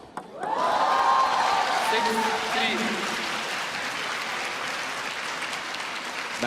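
Applause and light cheering from a crowd at a table tennis match, a women's singles semifinal, swelling quickly into a loud, sustained ovation that eases only slightly and stays steady to the end.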